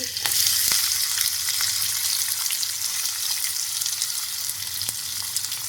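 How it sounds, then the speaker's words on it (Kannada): Onions and curry leaves sauté in a pan, giving a loud, continuous close-up sizzle with faint occasional stirring clicks and no voices. "ಈರುಳ್ಳಿ ಒಂದು ಸ್ವಲ್ಪ ಹಸಿ ವಾಸನೆ ಹೋಗುತ್ತಲ್ವ ಅಲ್ಲಿವರೆಗೂ ಒಂಚೂರು ಬಾಡಿಸ್ಕೊಂಡ್ಬಿಡಿ"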